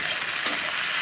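Onion and green chilli frying in hot mustard oil in a kadai, a short, even, close sizzle with one faint stirring tap midway.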